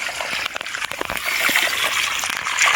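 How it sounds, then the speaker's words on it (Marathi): Water runs from a village tap pipe in a steady, splashing gush that fills the clip and grows slightly stronger toward the end, with a few sharper splatters near the start. "तर बघू शकता मित्रांनो पाणी येत आहे आता."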